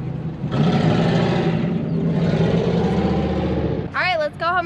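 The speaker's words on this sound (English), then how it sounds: "I have a loud truck too." A loud truck engine drones and revs steadily at close range for several seconds, then cuts off as a voice speaks over the tail.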